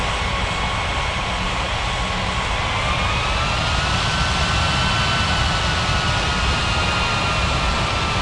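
Aircraft engines in an air traffic control video game as a plane taxis, a loud continuous jet roar and whine with slowly shifting tones, steady throughout without a break.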